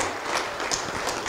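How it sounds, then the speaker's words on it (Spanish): Audience applause at a formal ceremony of the Colegio de Abogados del Cusco honoring Dr. Blanca Alicia, a steady wash of many hands clapping, moderately loud and even throughout. "Palmas para la doctora Blanca Alicia."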